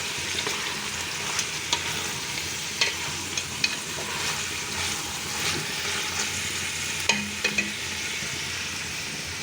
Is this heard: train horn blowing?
no